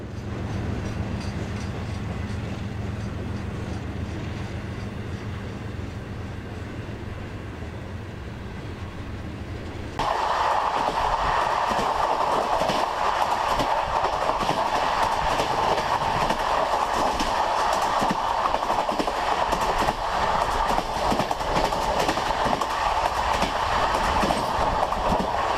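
A train carrying airplanes rolls along the rails, a steady low rumble with faint wheel clatter that turns louder and brighter partway through, continuing without voices.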